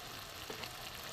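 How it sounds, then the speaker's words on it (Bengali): Ghee sizzles softly in a pan of vegetarian jackfruit and Gobindobhog rice curry, a faint, steady, close frying hiss with no voices. "এখানে আমি ঘি দিয়ে দেব। ঘি দিয়ে দিলাম।"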